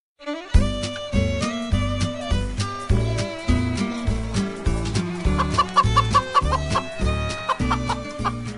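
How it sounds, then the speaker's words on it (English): Farm chicken clucking, steady rhythmic clucks repeating close and loud over a bouncy musical backing throughout. "Chicken Licken's on the farm."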